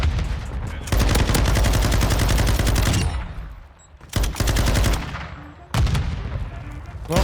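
Bursts of rapid automatic enemy gunfire in the Modern Warfare 2 video game, several loud sustained volleys separated by short pauses, with no talk over them.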